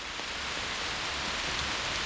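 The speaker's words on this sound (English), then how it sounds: "It's pouring rain." Heavy rain pours steadily onto a hiking trail along the Appalachian Trail in Virginia, a dense, continuous hiss with no voices, close and unbroken for the whole stretch.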